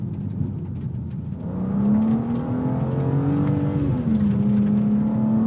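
A 2026 BMW M2 CS G87 accelerates hard, its engine note climbing steadily, then dropping sharply at a gear change before rising again, loud and continuous from inside the cabin.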